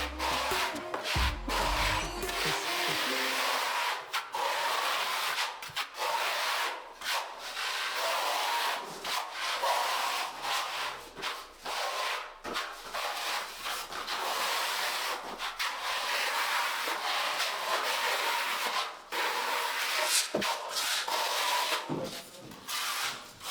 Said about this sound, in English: Just starting on the micro-cement base coat.